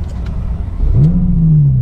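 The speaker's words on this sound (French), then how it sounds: "Vous avez le bouton Engine Start, c'est-à-dire pour démarrer le moteur." A Ferrari F12 engine starts at the push of a start button: a starter whir, then a loud close catch into a rising rev that settles into a steady idle rumble.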